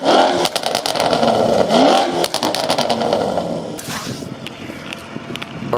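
A BMW M550i with a newly installed exhaust revs loudly in sharp, rapid bursts and crackles before settling into a quieter idle rumble, heard close up.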